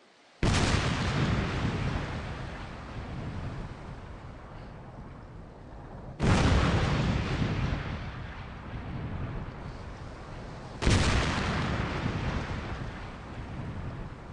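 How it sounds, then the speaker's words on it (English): A landmine of the kind used on D-Day detonates under a working vehicle in an explosives demonstration, three loud outdoor blasts, each a sudden broadband boom followed by a long rumbling roar of debris and wind. "explosives expert Sidney Alford will attempt to demonstrate their power"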